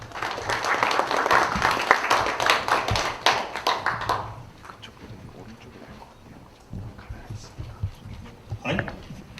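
An audience at a blockchain event in Seoul applauds a presenter with a dense burst of clapping for about four seconds. It fades into room noise, with a few scattered claps after.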